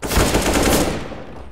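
A quick burst of rapid gunfire in Counter-Strike: Global Offensive on the Dust2 map rattles out during a tournament match, loud and sharp, then trails off into a fading echo.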